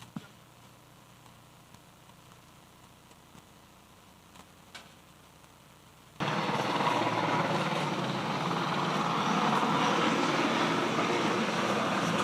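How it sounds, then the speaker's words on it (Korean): Large and small firefighting helicopters flying aerial fire suppression during a safety drill. Their rotor noise comes in loud and steady partway through, after a quieter stretch of outdoor background. "현재 공중 진화를 하고 있는 헬기는 사천, 통영, 하동권 헬기이며"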